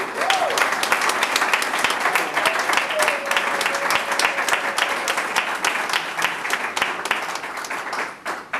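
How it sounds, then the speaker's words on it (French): Wedding guests applauding at the ceremony of Michael and Hope, sharp dense clapping from a crowd that runs steadily the whole time, with a voice briefly heard early on beneath it. "Vous voyez qu'il n'y a même pas assez d'applaudissements."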